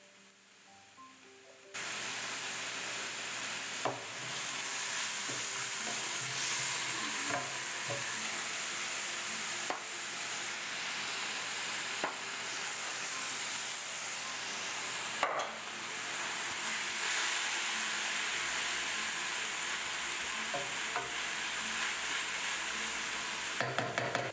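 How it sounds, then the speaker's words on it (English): Onion, garlic and vegetables stir-fried in a pan, a steady loud sizzle lasting throughout with scraping stirs and occasional utensil clacks, close up with no talking. "I'll stir fry for 2 to 3 minutes until the onion becomes translucent and the veggies are somewhat tender"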